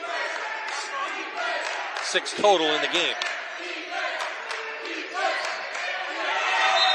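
A crowd roars and yells inside a gymnasium at a college basketball game, a constant loud din with shouts rising under a commentator's voice.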